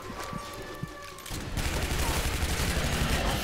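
An explosion goes off in the video game Shadow Warrior: after a lighter stretch of game sounds, a sudden loud, dense crackling burst erupts and keeps rumbling to the end.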